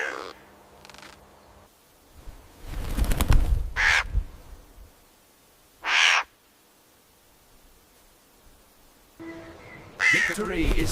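A crow caws in short, loud, harsh bursts spaced a second or two apart, close by in an outdoor orchard setting with quieter background noise between calls.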